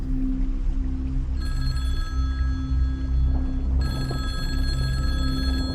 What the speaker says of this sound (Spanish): De pronto el teléfono comenzó a sonar.